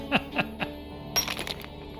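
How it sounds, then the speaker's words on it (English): Hammer cracking the head off an object in a point-and-click mystery video game, three sharp metallic clinks spaced evenly, then a brighter, scattered crack and jingle of breaking pieces, all fairly quiet and with no talk. "Let's just crack the head off."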